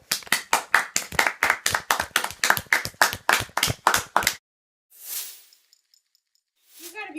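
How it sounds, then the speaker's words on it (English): An audience applauds at the end of an interview event with quick, steady, close clapping for about four seconds, then it stops into near silence with a few faint noises. "let's hear a round of applause for Miss Ayn Rand."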